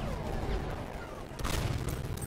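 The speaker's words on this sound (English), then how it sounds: "Machine gun!" Sustained gunfire and explosions from a Battlefield 1 Conquest battle on PS4, a dense continuous roar of rattling shots with a louder burst near the end, no clear talk over it.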